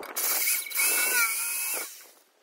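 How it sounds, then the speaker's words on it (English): A high-pitched power drill whines and strains against hard stainless steel in two short close bursts, then winds down. "trying to drill holes in the stainless steel"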